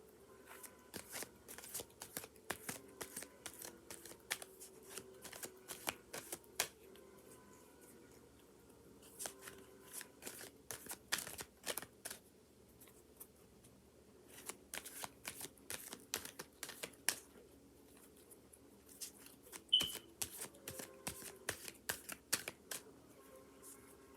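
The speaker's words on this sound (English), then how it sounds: "So, I'm gonna pull one of these cards, just shuffle and see what comes out" Cards riffled and shuffled in repeated bursts of crisp, rapid flutters, close up, with short pauses between rounds.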